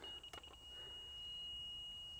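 A construction laser receiver at a retaining wall pipe job gives a steady, solid electronic tone signalling on-grade level, preceded by a few short chirps, faint against quiet outdoor background.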